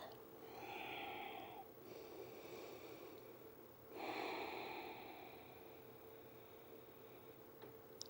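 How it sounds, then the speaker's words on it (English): Slow Ujjayi breathing in a yoga pose, two long, soft, hissing breaths with a throaty rasp, close and quiet over a low background hum. "Find that Ujjayi breath."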